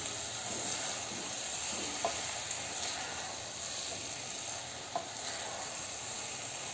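Rice sautés in a pan for a spiced bean-and-rice dish, making a steady, close hiss with a couple of faint knocks from a stirring spoon.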